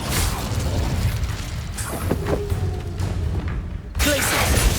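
An Incendio fire spell cast in Hogwarts Legacy, a dense roaring burst of fiery noise with thumping impacts. It sustains for several seconds, briefly cuts out, then flares up loudly again.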